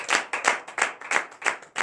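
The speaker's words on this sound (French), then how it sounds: "Nous donnons l'acclamation à sa parole." A church congregation at a Saturday morning prayer service in Benin claps in a steady rhythm, six loud bursts of hands about a third of a second apart, close and with no talk over them.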